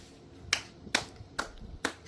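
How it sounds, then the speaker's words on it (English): Four slow, evenly spaced hand claps, each a sharp isolated crack about half a second apart, in a quiet kitchen with no talking. "Slow clap."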